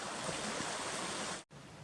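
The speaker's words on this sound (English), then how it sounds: "It's really pretty though, walking down here next to a river." A river flows beside a hiking trail near Ouzel Lake in Rocky Mountain National Park, giving a steady close broadband rush of water that briefly cuts out near the end before resuming.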